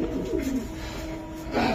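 A young racer pigeon, a two-week-old squab still growing its feathers, gives a few soft, close cooing calls over a low background hum.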